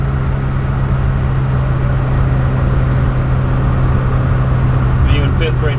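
A 1972 BMW 2002tii with an Alpina A4 engine cruising in fifth gear at about 3,000 rpm, giving a steady, loud low drone with constant road and wind noise throughout, and brief faint voices near the end.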